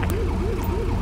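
Wailing police car siren in a video game, a sheriff's vehicle patrol scene, sweeping up and down repeatedly and steadily over a constant low engine-like hum, loud and close, with no talking.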